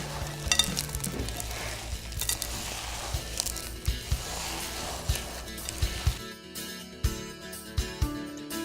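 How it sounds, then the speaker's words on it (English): Monster cookie dough is squished and mixed by hand in a bowl, giving soft, wet, irregular squelching and slapping sounds, close and fairly loud, with a pause before a few sharper thuds near the end. "You just take a big old chunk of it, and we just mush it around."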